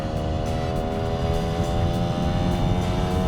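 Two-stroke project motorcycle engine cruising in sixth gear at about 5,000 RPM, a loud steady buzzing drone with a dense harmonic whine and no speech.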